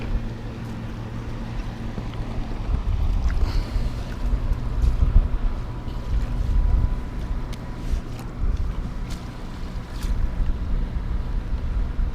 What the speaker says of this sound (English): Hear the boats just hanging around back there in the background.